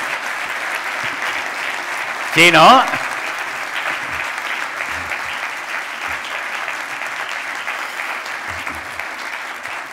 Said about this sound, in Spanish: La gent de la ràdio aplaudint els oients.